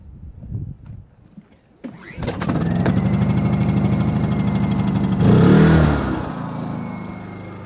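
A small engine, given a little choke, sputters faintly, then catches and runs at a steady, close drone, rising to a louder rev for a second before settling back.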